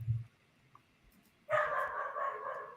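A pet dog barks indoors in a short burst after a low thump and a quiet pause, loud and close, under no talk.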